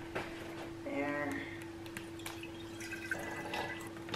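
Kimchi water is poured into jars in a home kitchen: a faint, soft trickle and drips over a steady background hum, with brief voices.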